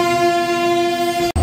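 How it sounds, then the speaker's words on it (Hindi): A train hauled by a WAG-9 electric locomotive arriving at Jodhpur station sounds a loud, sustained horn with a steady tone that cuts off sharply near the end, followed by rumbling rail noise. "और यहाँ पर वैग 9 के साथ कॉनकॉर्ड फ्लाइट जोधपुर पर अराइवल ले रही है"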